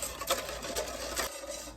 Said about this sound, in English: Now we're gonna whisk this for a minute.